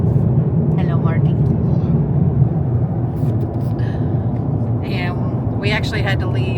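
A low, steady road rumble from a car driving along, heard from inside the cabin, with a voice talking intermittently over it.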